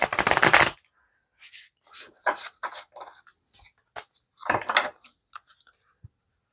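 A Modern Nirvana Oracle card deck being shuffled: a loud opening riffle, then a run of lighter cuts, taps and card flicks, close and clear, with brief faint voice sounds mixed in.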